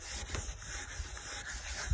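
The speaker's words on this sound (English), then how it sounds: "when I was doing the sanding process on my Civic" Steady, continuous rubbing of abrasive against a hard surface, a dense sanding hiss with a few brief pauses and a faint high whine running through, hand sanding a Honda Civic headlight lens with 400-grit paper.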